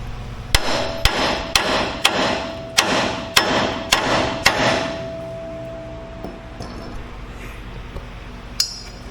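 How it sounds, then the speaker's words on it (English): Sharp metallic hammer blows ring out on a suspension joint of a 10th-generation Ford F-150 during a lowering job, about ten steady strikes close up, then a quieter stretch with one last hit. "I feel like I can hit it with a hammer and probably knock it loose."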